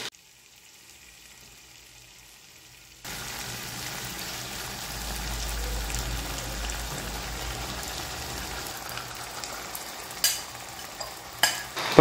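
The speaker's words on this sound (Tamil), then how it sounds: "இப்போ நம்ம மேரினேட் பண்ணி வச்சுருக்க காடை பீஸை வந்து இதில் சேர்த்துக்கலாம்." Marinated quail pieces tipped into hot biryani masala, then sizzling and frying steadily with stirring sounds, loud and close, a quiet pause before the pieces go in and a few sharp spatula clinks near the end.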